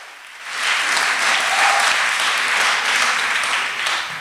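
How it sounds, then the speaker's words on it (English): A lecture-hall audience at a memorial lecture breaks into sustained applause, a dense wash of many hands clapping that swells quickly and holds steady for several seconds. "Can we give another round of applause?"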